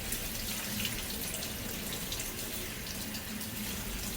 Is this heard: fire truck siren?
no